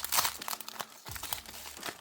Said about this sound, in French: je suis désolé pour les bruits de scotch